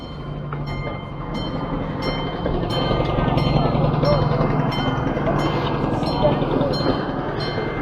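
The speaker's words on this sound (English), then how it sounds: "Here is the world's smallest train." A miniature train at a transport museum rumbles past with a steady rhythmic clatter, fairly close and loud, while faint voices murmur in the background.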